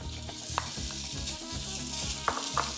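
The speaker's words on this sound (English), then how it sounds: "Okay, we're gonna add our chorizo to the skillet." Chorizo sizzling in a lightly oiled skillet as breakfast taco filling, a steady close crackle with a few sharp scrapes of a spoon against the pan.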